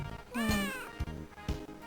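A cat meows once, a clear rising-and-falling cry up close, followed by a couple of soft thumps and shuffling, inside a JoJo's Bizarre Adventure video game scene.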